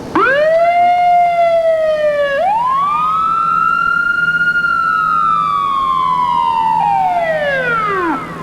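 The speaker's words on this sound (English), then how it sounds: "Hey, Chris, 3 sirens." Loud wailing sirens before a hotel building implosion sweep up and down in long, overlapping glides, a close emergency siren rising, falling and rising again before cutting off.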